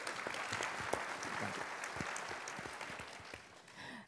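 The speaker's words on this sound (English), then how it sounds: "So give a hand of applause for just everything she did." A seated audience at a synagogue talk claps warmly, a brief patter of many hands heard at moderate distance, tapering off near the end.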